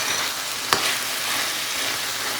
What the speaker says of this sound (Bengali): এগুলো ভালো করে আমি এখন ভাজা করে নিচ্ছি